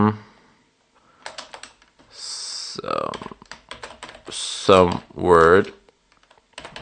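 Computer keyboard typing while text is entered in the Vim editor, with bursts of clicky keystrokes between stretches of close speech.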